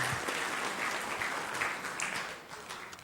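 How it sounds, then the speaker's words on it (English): A church congregation applauds, dense steady clapping from many hands filling the room for a few seconds before thinning slightly at the end. "You may clap if you like."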